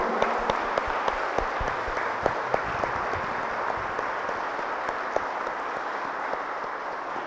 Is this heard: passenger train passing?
no